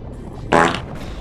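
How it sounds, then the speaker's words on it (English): A sea monster in the video game Dave the Diver lets out a short, loud, bubbly fart that lasts a fraction of a second over a low ambient background. "The big sea monster farted."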